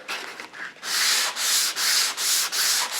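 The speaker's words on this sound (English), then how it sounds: "I'm going to try sanding it off over here too," Body putty and primer are sanded on a car panel, a loud, close rasping scrub in steady back-and-forth strokes with brief gaps between passes, after a few lighter strokes at the start.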